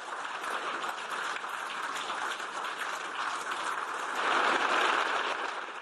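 Sustained applause from a parliamentary audience greeting Ukraine's President Zelensky in the Canadian parliament, a dense, even clatter of many hands that swells a little louder near the end, with no voices over it.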